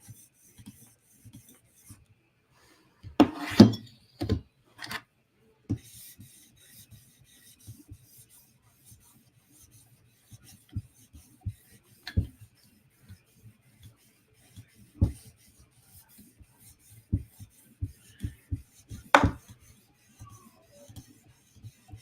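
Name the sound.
sharpening a PM2 Tanto knife blade on a sharpening stone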